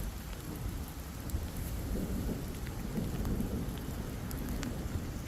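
Steady rain falling outdoors at an RV park in Estes Park, Colorado, with low rolling thunder underneath and occasional drips, even and continuous with no talk.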